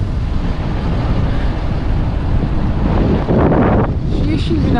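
Strong wind on a pier after a speedboat trip from Koh Phangan to Krabi in Thailand, a loud, steady buffeting roar battering the microphone throughout, with no letup.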